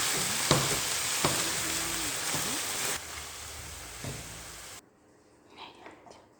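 Spiced kofta mince with onion, red pepper, salt and chermoula sizzles and crackles loudly in a pan while a spoon stirs and scrapes, then the frying abruptly drops to a quieter background with a few soft knocks.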